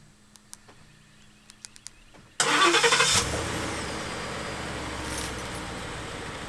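A 2015-2017 Ford F150 pickup truck engine cranks and fires at once with a loud burst, then settles into a steady idle, after a stretch of quiet clicks and small handling noises.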